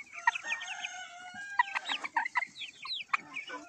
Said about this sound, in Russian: Вот такой вот петушок. Это петушок.